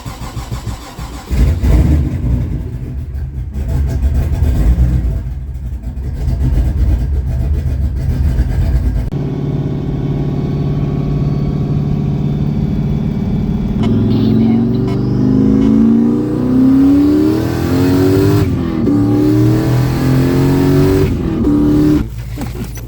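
An F-body car's engine cranks and fires up, settling into a loud, steady idle before a series of rising and falling revs, heard up close with people talking around it.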